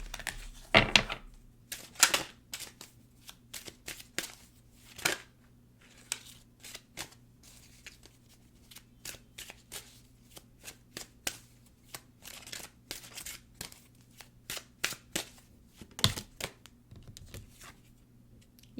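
Tree Keeper's Oracle cards being shuffled close by, a quiet run of crisp riffling snaps and flicks repeating irregularly with short pauses between them, no voice over it.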